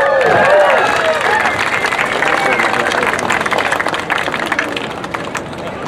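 People at the Louisville City FC groundbreaking ceremony cheer and clap as others shovel sand and gravel, with a shout opening into a lively swell of applause and voices that gradually eases.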